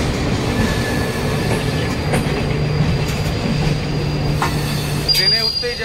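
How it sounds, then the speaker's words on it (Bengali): A superfast express train pulls away from a platform with a steady loud rumble of wheels and carriages, a sustained squealing tone, and brief clicking near the end; voices can be heard faintly beneath. "তার সাথে ট্রেনও প্ল্যাটফর্ম ছেড়ে দিয়েছে।"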